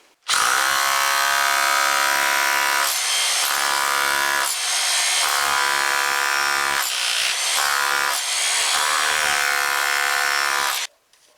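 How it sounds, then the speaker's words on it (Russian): A loud rotary hammer grinds and hammers continuously for about ten seconds, its harsh buzzing tone dipping briefly several times as pressure shifts, then stops abruptly. "на это способен перфоратор"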